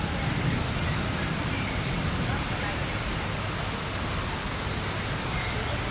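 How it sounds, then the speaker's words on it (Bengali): Heavy rain falls as a dense, constant roar that fills the whole clip at an even loudness, with no voices heard above it. "দেখুন কী পরিমাণে বৃষ্টির তেজ।"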